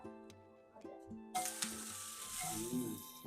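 Oil poured onto a rava dosa on a hot pan, a sudden bright sizzle bursting in after quieter tonal sounds and continuing steadily to the end.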